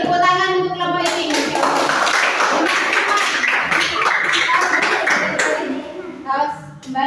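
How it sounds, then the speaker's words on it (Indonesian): Group of people, likely a class, clapping hands together in a loud, dense burst of applause for several seconds, with voices talking before and after. "tepuk tangan untuk kelompok ini."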